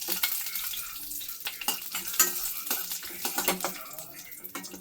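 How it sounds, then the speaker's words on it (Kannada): Cashews, peeled almonds and raisins fry in half a spoon of ghee for shavige payasa, a close, busy sizzle broken by scraping stirs and light clinks of a spoon against the pan. "ಅರ್ಧ ಸ್ಪೂನ್ ತುಪ್ಪದಲ್ಲಿ ಗೋಡಂಬಿ, ಸಿಪ್ಪೆ ತೆಗೆದಿರೋ ಬಾದಾಮಿ, ದ್ರಾಕ್ಷಿ ಮೂರನ್ನೂ ಚೆನ್ನಾಗಿ ತುಪ್ಪದಲ್ಲಿ ಹುರಿದು ಎತ್ತಿಟ್ಕೋತೀನಿ"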